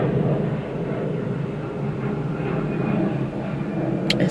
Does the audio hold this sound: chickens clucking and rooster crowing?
no